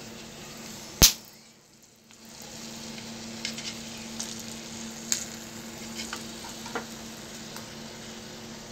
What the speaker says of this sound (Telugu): ఈ డ్రై ఫ్రూట్స్ ఉన్నాయి కదా, ఇవి కొంచెం నూనెలో వేపుకుంటే సరిపోతుంది.